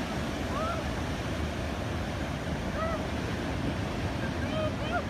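Ocean surf at a beach where surfers wait for waves, heard as a constant broad wash of breaking water and wind, with faint distant gull-like cries above it.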